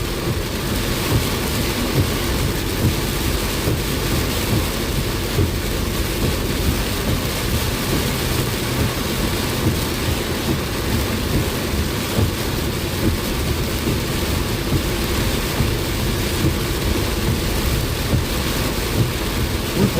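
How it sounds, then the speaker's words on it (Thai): Heavy rain drums steadily on a car during a drive through a thunderstorm, a dense continuous roar with low rumbling underneath, loud and unbroken throughout with no talking. "ฝนแถวนี้ทำไมตกดีจังตกแรงด้วย"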